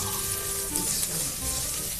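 Ginger paste going into a sizzling pan of chicken rezala, a steady close frying hiss with faint spatula movement and a low background hum, no talk.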